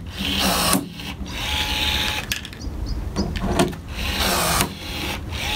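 A Milwaukee M12 cordless riveter sets pop rivets, giving bursts of motor whirring broken by short pauses and sharp clicks and snaps as each rivet mandrel breaks, close and fairly loud.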